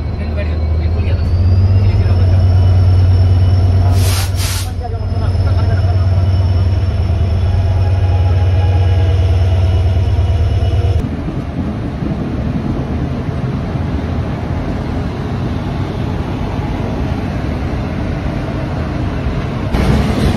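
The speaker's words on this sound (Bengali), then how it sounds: "এই স্টিল এক্সপ্রেসের পিছনের বগি থেকে একদম ট্রেনের সামনেটা দেখুন, ট্রেন এখানে কার্ভ নিচ্ছে" Steel Express train rounding a curve, heard from a rear coach: a loud, steady rolling rumble with a deep low drone in the first half that eases into a broader, rougher roar later.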